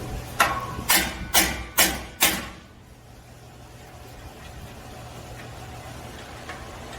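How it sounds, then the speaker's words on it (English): Five sharp metallic hammer strikes ring out in a quick, even rhythm, each decaying briefly, followed by a low hum of background noise, during a lift kit install on a 2022 Toyota Tundra. "We're going to take a hammer and hit this down."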